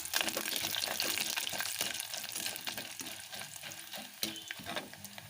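Vadagam fries in hot oil with dal for a kara kulambu tempering, a close, crackling sizzle with stirring scrapes and an occasional sharp pop, steady and fairly quiet.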